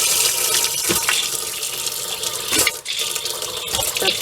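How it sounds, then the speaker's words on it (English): Water runs from a tap in an off-grid RV being prepared for a Canadian winter, a steady hissing splash with sputtering bursts and spits where air pushes through the line, close and loud with no talk. "just turn each tap on until the water runs pink"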